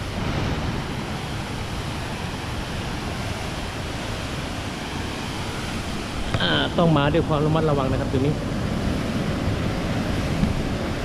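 The Li Phi (Somphamit) waterfall on the Mekong at Don Khon, Laos, roars in a steady, wide rush of water, and someone talks briefly over it partway through.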